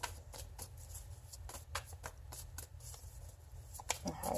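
Oracle cards being shuffled by hand for a reading, a steady run of soft riffling and slapping bursts, close and fairly quiet, with no talking.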